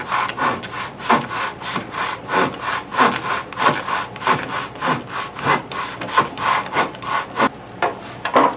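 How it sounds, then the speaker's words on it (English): A hand saw cuts through a pinewood derby car block held in a vise, with steady back-and-forth rasping strokes about twice a second. The sawing is close and fairly loud, and nobody talks. "It's a saw. It always works if you do it right."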